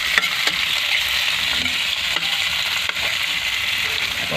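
Tomato and chili fry in a pan and are stirred, making a dense, close sizzle with scraping strokes and small clicks throughout, with no voices.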